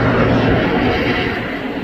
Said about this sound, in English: he'll now climb with full thrust of the engines